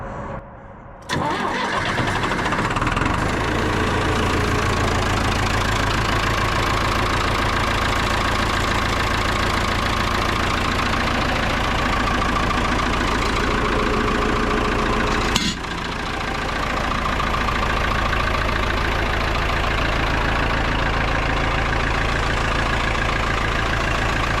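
A John Deere 2510 tractor engine cranks and catches, then idles loudly and steadily at close range, with a brief knock partway through before the rumble settles again.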